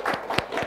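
Short burst of audience applause at a talk-show event in Yogyakarta, a brief patter of clapping hands at moderate volume.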